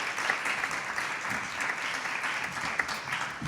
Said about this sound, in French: applaudissez ma merveilleuse invitée, Gabrielle!